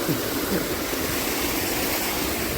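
Rainwater flowing and rising across a farm field after heavy rain, a steady, continuous rushing wash like a stream, close and fairly loud throughout with no talk.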